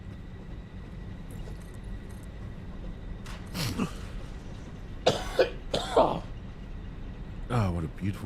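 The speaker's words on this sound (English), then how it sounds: "what a beautiful cough" A few raspy coughs and throat-clearing bursts from a person nearby over a steady low hum, with faint murmuring in between.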